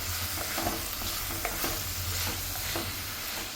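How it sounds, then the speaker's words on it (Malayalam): Tomatoes being stirred into a hot masala in a pan for a fish curry, with a steady sizzle under repeated scraping and stirring strokes, close and fairly loud throughout, no talking. "നമുക്കിനി ഇതിനെ മിക്സ് ചെയ്തിട്ട് 2 മിനിറ്റ് മൂടി വയ്ക്കാം."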